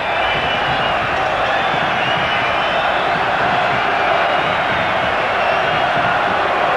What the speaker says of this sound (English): A very volatile and enthusiastic crowd in the stadium tonight